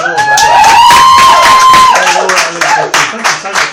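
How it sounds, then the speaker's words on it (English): Small round of applause in a Dublin radio studio, a few people clapping up close with whoops and cheers, fading into scattered claps as talk resumes. "give a round of applause."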